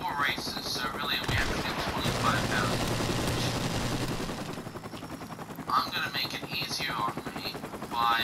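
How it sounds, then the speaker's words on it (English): A friendly helicopter in a military shooter video game thrums continuously in the background, with bursts of gunfire and a person speaking over the noise. "Friendly chopper on the way."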